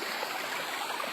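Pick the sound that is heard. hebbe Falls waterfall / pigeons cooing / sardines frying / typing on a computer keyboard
hebbe Falls waterfall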